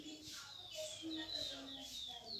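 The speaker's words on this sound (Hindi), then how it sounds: "कोयल की प्यारी आवाज़ आपको सुनाई दे रही होगी।" An Asian koel calls outdoors in a village: repeated clear whistled notes about every half second, moderately distant over soft background noise.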